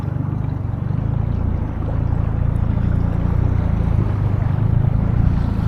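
A small motor dinghy heads into town across the water, its outboard engine droning steadily and close with rushing water noise throughout.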